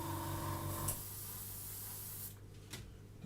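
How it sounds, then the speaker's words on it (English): A cheaper airbrush sprays in a steady hiss for about two seconds during a model-building session, then cuts off and leaves a quieter background with a brief tap. "I wouldn't normally use this airbrush because it's the cheaper one I got"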